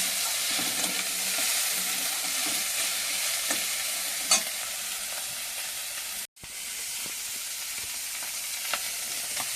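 Vegetable stems stir-fried in a pan at home, ahead of taro, Malabar spinach and potato: a steady, dense hiss of frying with a few soft spatula clicks and one brief dropout, no speech.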